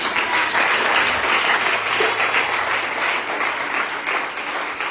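Church congregation breaking into warm, sustained applause to acclaim the Lord during a praise and worship service, dense clapping that fills the room and fades slightly at the end.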